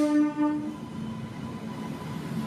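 A train pulls into a railway station, a loud horn tone sounding briefly at the start over a steady, close rumble of rolling wagons that carries on throughout.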